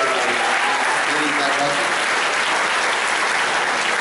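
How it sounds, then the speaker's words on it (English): Loud, dense audience applause fills a New York Comic Con 2017 panel hall for The Tick, a steady roar of many hands with a brief voice near the start. "Applause."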